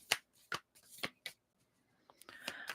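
Tarot oracle cards being shuffled by hand, heard as several soft, crisp riffles and taps spaced unevenly, ending in a brighter, longer riffle, quiet and close with no talking.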